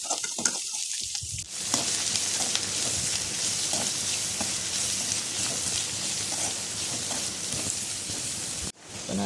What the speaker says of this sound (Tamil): நல்லா அந்த ஆனியனை வந்து வதக்கணும்